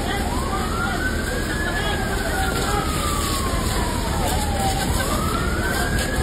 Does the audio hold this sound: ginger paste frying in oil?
no